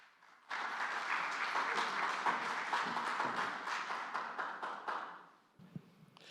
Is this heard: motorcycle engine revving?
no